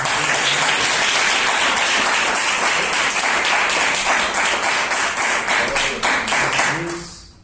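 A church congregation at a Brazilian evangelical service claps for Jesus, a dense, loud, continuous wash of applause that holds steady throughout and tapers off at the very end.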